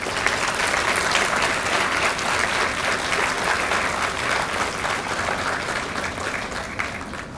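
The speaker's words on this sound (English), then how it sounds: "let us all give a big round of applause to madam" Audience applauding at a book launch in Puducherry, a steady, dense round of clapping from a sizeable crowd that holds evenly for several seconds without any voices over it.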